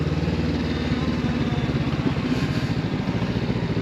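An adventure motorcycle engine runs steadily and loudly close by, a continuous throbbing drone with a fast regular pulse and no talk.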